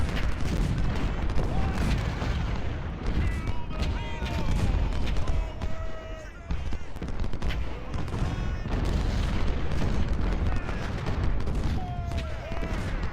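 Artillery and massed musket fire in a Civil War battle at First Bull Run, in the game Ultimate General Civil War, roll on as continuous overlapping booms and crackling volleys, loud and dense throughout.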